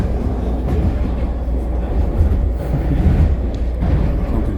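A westbound train passes near the Metrotown bus loop with a steady, loud, broad rumble and rolling rail noise that holds throughout, swelling slightly toward the end.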